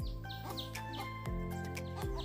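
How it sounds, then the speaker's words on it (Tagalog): Chickens cluck and chirp in a farm coop, several birds calling in short repeated bursts close by, with a low steady hum underneath. "Dito guys yung kulungan namin ng manok."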